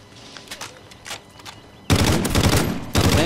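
Call of Duty: Ghosts gunfire in the Infected mode: faint scattered shots at first, then a sudden loud, sustained automatic burst close up that runs to the end.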